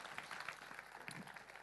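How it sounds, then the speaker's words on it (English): Brief burst of dense audience applause at a media conference talk, many hands clapping together in a quiet, distant wash with no voices. "A round of applause for Elizabeth."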